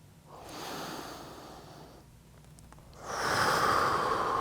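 Slow, deep breaths during a yoga stretch: a long audible exhale, a pause, then a stronger, louder breath, close and clear with no talking.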